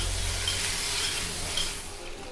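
Boiled potatoes with curry leaves and red chilli powder sautéing in a pan, a steady close hissing sizzle throughout with a faint low hum beneath.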